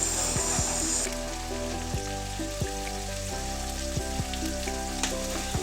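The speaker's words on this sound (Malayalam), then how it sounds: "പെട്ടെന്ന് വഴന്ന് വരാൻ കുറേശ്ശെ ഉപ്പും കൂടെ ചേർത്ത് നമുക്ക് ഇതൊന്ന് ചെറുതായിട്ട് വഴറ്റിയെടുക്കാം" Chopped onions sautéing with a little salt in a pan as the base for chicken kurma give a steady, close sizzle that runs the whole time beneath tonal background music.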